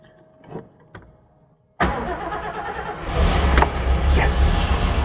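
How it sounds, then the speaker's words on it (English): A Mercedes-Benz 300 SL Gullwing engine cranks briefly, then catches and fires into a loud, rough, spluttery running idle that swells and steadies, close by. "You only do that while you're literally cranking the engine, and then it should go."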